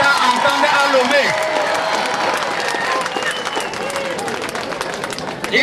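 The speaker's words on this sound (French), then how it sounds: "il faut applaudir encore plus fort pour que le chef de l'État entende à Lomé" An audience at a Togolese NGO event bursts into sustained applause. Dense, loud clapping from a crowd rolls on steadily, and voices rise over and within it.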